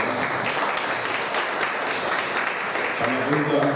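Audience applause at a municipal council session, a dense, steady burst of clapping from a room full of people that carries on for several seconds, close and fairly loud, with a voice faintly over it.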